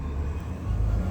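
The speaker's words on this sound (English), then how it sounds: "sorry for the traffic noise" Low, steady rumble of passing road traffic beside a garden yard, like a vehicle going by nearby, over a brief continuous wash of noise.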